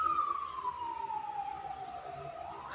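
A fire truck siren wails faintly in the distance, sliding slowly downward in pitch before starting to rise again over low background noise.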